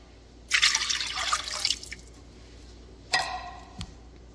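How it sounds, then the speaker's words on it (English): Water pours from a can into a crock pot holding cream of chicken soup in a brief splashing gush, then a second shorter pour with a small clunk, close and clear with no talk. "I'm going to add 2 cans of water."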